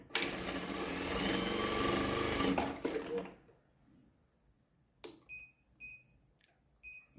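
A Prosew PS-1987A sewing machine runs a steady, close whirring seam of short and long stitches for about three seconds, then stops, followed by a few sharp electronic beeps from its touch screen.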